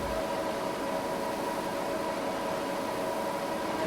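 Race car engine from the F1 2020 video game, held at steady high revs at the start of the Russian Grand Prix, a constant buzzing drone that continues unbroken with no talk.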